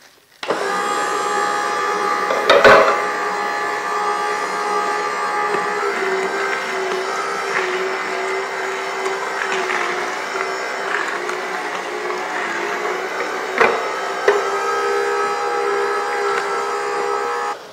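An electric juicer grinds through four cucumbers with a steady, loud motor whine, broken by a couple of sharp knocks as pieces drop in, running alone for the whole stretch.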